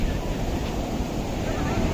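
Sea waves wash in at the shore as a steady, close, broadband surf rush with some wind noise on the microphone, and no talk.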